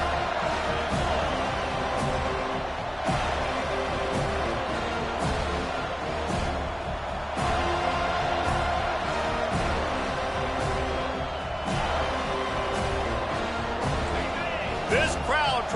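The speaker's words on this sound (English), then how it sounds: "This crowd trying to show them what it's going to be like all day in this house." A dense college football stadium crowd roars steadily throughout, with sharp thuds and bursts of cheering, while play-by-play commentary talks over the noise.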